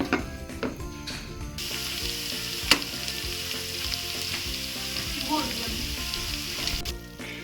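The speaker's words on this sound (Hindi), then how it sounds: "भिंडियों को फ्राई के लिए मैंने घी रख दिया था, घी गर्म हो चुका है" Okra frying in hot ghee sizzles steadily and loudly in a pan, with occasional stirring clatters and a sharp utensil tap, no talking throughout.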